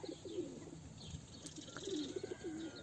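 A young tumbler pigeon gives soft, low cooing calls in a few short phrases, close but quiet over faint background noise and light chirps.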